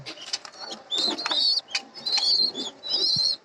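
Pigeons kept in a loft with eggs and young chicks give bright, chirping calls in short repeated bursts. The calls are close and moderately loud, and no one speaks.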